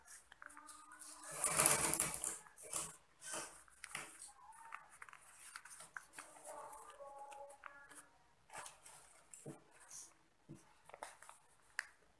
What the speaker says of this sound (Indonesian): Lalu kita jahit tepat di bagian jahitan tadi.